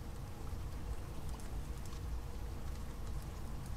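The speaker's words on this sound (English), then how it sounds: "It's raining so sporadically." Gentle rain falls steadily in The Sims 2, a soft, continuous patter at moderate, even loudness with no voices.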